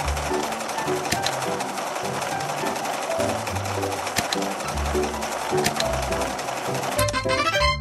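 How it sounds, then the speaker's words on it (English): A sewing machine in a dress-up video game stitching a small dress, a rapid mechanical whir with fast ticking stitches over light game music and chirps, ending with a short run of quick clicks. "Let's sew the small bottom dress."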